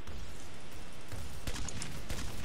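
A pistol in Minecraft Galaxy Wars fires several shots at a time like a shotgun, giving faint, sharp cracks in a quick cluster midway through, over a busy game background.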